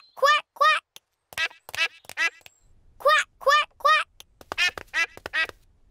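Cartoon characters in Peppa Pig quack like ducks, with a voice imitating the sound: a series of loud, nasal quacks in quick clusters of two or three, separated by short pauses.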